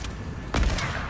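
Gunfire in a shooter video game, a short burst of shots landing around the middle over a faint background, fairly quiet and brief.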